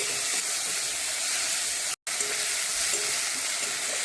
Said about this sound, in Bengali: এখন এগুলো ভালো করে ভেজে নেব।